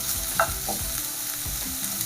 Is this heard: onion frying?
yes